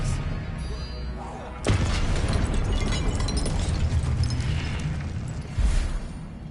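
A spell burst goes off in Hogwarts Legacy with a sudden loud whooshing blast about midway, followed by a sustained rumbling wash of magical energy and a second swell near the end.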